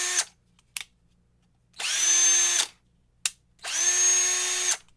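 A 20V cordless drill running at its speed setting: a short blip, then two whirring runs of about a second each that spin up and cut off, close and loud, separated by quiet gaps with no talking.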